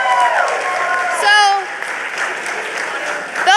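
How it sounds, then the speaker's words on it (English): A conference audience claps for a woman invited up on stage, a moderate round of applause under a speaker's voice that keeps talking over it, with a brief whistle-like squeal partway through. "give her a round of applause"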